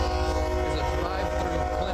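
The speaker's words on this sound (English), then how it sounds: "That train engineer made it just in time, Rudy." A passing train's horn holds a steady, sustained blare over a low rumbling drone, loud and unbroken throughout.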